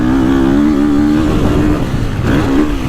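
A Husqvarna FC350 or Gas Gas MC350 dirt bike engine revs loudly and steadily close by, its pitch holding high before dipping and climbing again.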